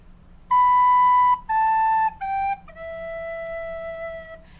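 Recorder sounding a series of clear, steady whistle-like tones, ending on a sustained low E, played alone with a few short notes before the long held one.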